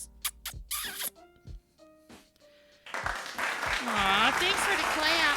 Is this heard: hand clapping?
yes